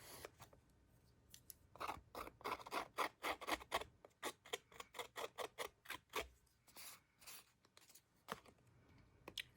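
Scissors snip repeatedly through stiff watercolour paper, a quick irregular series of crisp cutting and rasping strokes, close up with short pauses between bursts.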